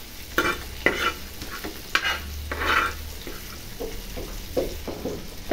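Spice masala being dry-roasted in a pan, with repeated scraping stirs of a spoon against the metal over a faint sizzle, close and clear, with no talking.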